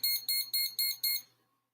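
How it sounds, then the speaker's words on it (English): Pampered Chef kitchen timer sounding five rapid bursts of high electronic beeps in a steady rhythm, close and clear, then going silent. "Okay, this is our timer."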